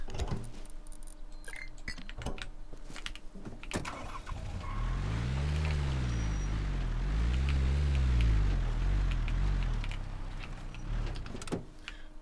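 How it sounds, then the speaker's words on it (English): A car engine in the video game Rust cranks and starts, then revs up and down in smooth swells as the vehicle pulls away, preceded by clicks and clunks of someone getting in. "Now, to start the car, you just push forward a little bit and it'll start."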